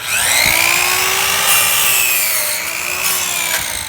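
A saw cuts through wooden trim in one long continuous stroke, a steady rasping whine at close range with no talk over it.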